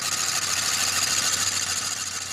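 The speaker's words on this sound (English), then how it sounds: "The engine's just too old and too tired." An old, tired reclaimed farm engine with a major fault runs roughly, a steady close mechanical rattle and hum with a faint uneven knock and no voices.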